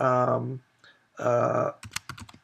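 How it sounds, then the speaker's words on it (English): Computer keyboard typing, a quick cluster of sharp key clicks near the end, following stretches of sustained voiced sound. "let's type in for the moment"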